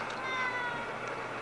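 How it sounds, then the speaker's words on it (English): A house cat meows close by in a drawn-out, slightly whiny call, heard alone against a quiet indoor background. "RFJ is always doing this to his cats, so I want to see what Tiger thinks."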